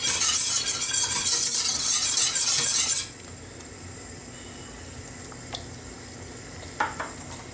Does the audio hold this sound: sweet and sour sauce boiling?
yes